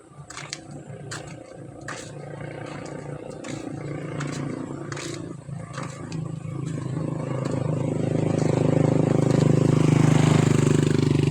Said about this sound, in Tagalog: yung dumaan ay tricycle